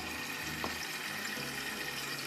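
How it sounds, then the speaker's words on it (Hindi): Half a cup of water is poured from a cup onto red onions in a cooking pot, a short soft splash and trickle over steady kitchen background noise. "आधा कप पानी डाल देती हूँ ताकि प्याज हमारी काली ना हो जाए।"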